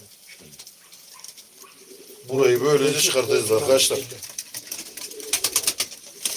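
Pigeons coo in a loft as the birds are readied for an evening auction, a soft burst of throaty cooing rising midway under close conversation.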